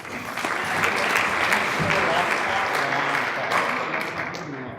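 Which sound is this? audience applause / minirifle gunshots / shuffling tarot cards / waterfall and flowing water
audience applause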